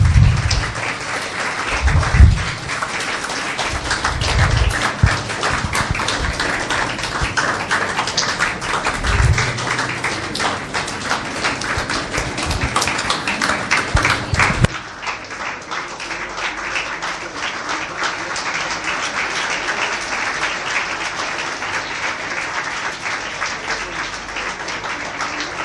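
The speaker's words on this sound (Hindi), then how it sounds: "जोरदार तालियों के साथ।" Loud, sustained audience applause at an annual motivational program on mind reading and memory power, dense clapping with some heavier taps early on, easing slightly partway through but continuing steadily to the end.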